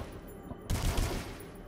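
A burst of rapid machine gun fire from the video game Dusk, heard as brief dense crackling shots lasting about a second, loud and close.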